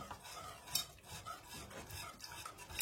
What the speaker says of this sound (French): Faut bien mélanger à cause des grumeaux